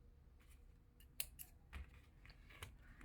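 Scissors snipping crochet yarn, a few faint, sharp quick cuts in a quiet room.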